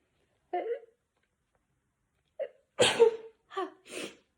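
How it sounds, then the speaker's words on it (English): Several short bursts of breath and voice, with the strongest, sharp burst in the middle resembling a sneeze, separated by silence. "I have to sneeze."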